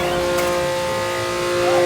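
A car driving around to the back of a body shop, a steady close engine hum with a brief rise, no talking.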